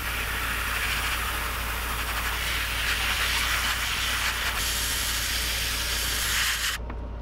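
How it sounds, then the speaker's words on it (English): A continuous airbrush hiss runs close and steady, spraying paint onto a bass swimbait lure without a break until it cuts off abruptly near the end. "Try to keep the spray very localized."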